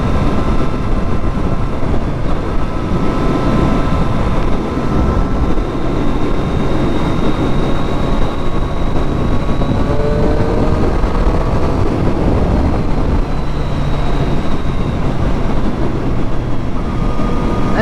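A Triumph Street Triple 765R with a quick shifter and lowered ride height is being ridden, giving a steady, close engine drone under heavy wind roar, with its pitch sliding up and down, and no talking.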